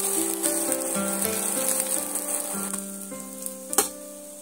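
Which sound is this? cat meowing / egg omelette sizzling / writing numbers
egg omelette sizzling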